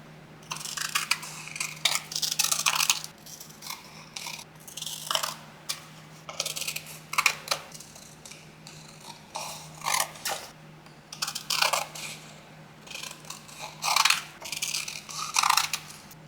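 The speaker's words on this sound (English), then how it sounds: "It's time to trim out our pictures." Scissors trim pictures cut from a magazine, making repeated crisp snipping and paper-rustling bursts in uneven clusters with short pauses between cuts, close and clear with no talking.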